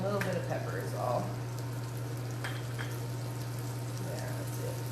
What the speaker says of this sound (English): now we've got it, you can hear it frying.